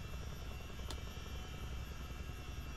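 A CH-47 Chinook helicopter flying in Microsoft Flight Simulator gives a steady, dense rotor and engine drone with a constant hum, heard alone without talk.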